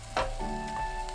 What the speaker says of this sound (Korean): 고운 소금 1/3 큰술 넣고 20초 볶아주세요